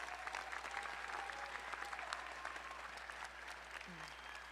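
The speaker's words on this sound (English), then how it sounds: "Let's give them another round of applause, the scholarship recipients." Graduation audience at an adult basic high school equivalency ceremony applauds the scholarship recipients, a steady wash of clapping from a large room, fairly distant, with faint voices beneath it.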